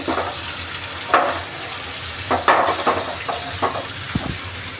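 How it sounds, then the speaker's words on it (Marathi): Kateri fish fries in a pan over a medium-high flame, giving a steady sizzle with several sharp crackling bursts and the scrape of stirring. "आता आपली मच्छी फ्राय होते बघा"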